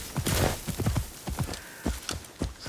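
A horse gallops over rough terrain in Assassin's Creed Shadows, its hooves pounding in a fast, uneven rhythm of heavy thuds, close and loud, with a soft snort near the start.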